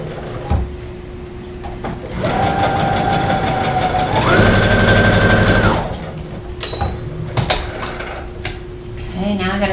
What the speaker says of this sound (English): I have to sew the center back seam right here.